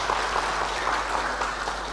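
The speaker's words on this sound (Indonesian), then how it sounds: "Tepuk tangan untuk para Frater kita ini." A congregation at a deacon ordination Mass claps steadily and fairly loudly, a dense wash of many hands sustained throughout.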